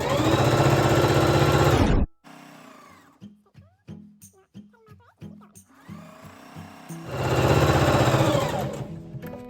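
A sewing machine stitching the straight side of fabric face masks runs in two loud close bursts. Between them come a stretch of quieter clicks and handling noises.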